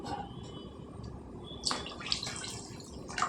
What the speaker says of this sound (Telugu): ఇంకొద్ది నీళ్ళు వేసుకుందామండి మనం